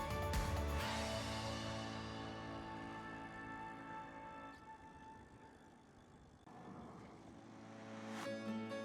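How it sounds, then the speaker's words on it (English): A float plane passes overhead above a marina on the Thousand Islands waterfront: a faint, distant propeller-engine drone with a steady buzzing hum that swells and fades slightly, with no talking. "There's a float plane up there."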